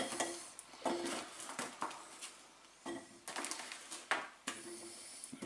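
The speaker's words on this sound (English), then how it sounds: "What I want to do, I'm going to drop potatoes into base." Potatoes dropped one after another into the base of a slow cooker, a series of irregular dull knocks and clatters, close by and fairly quiet, with no talking.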